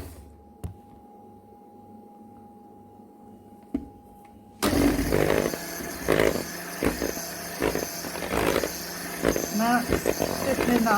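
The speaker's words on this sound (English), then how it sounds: "So we're going to keep on whisking, okay?" An electric mixer switches on partway through, a loud steady motorized whir whisking double cream into butter after a quiet stretch, with a faint hum before it starts.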